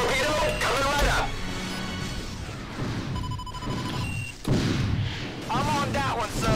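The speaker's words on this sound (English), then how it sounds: "One torpedo coming right up." A torpedo launch in the space combat game Wing Commander Prophecy: loud booming blasts and heavy rumbling with electronic tones, close and dense, with voices talking over parts of it.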